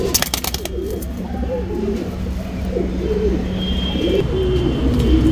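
Breeding pigeons of an old Kare Dhooma Rekdhar lineage coo in repeated soft, rolling phrases nearby, with a few sharp clatters at the start and a faint high whistle later.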